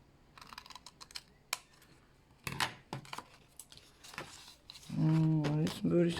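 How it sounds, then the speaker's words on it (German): Several crisp snips and rustles of scissors cutting paper, irregularly spaced, followed by a voice speaking near the end. "Den Rest mache ich mal hier mit der Schere."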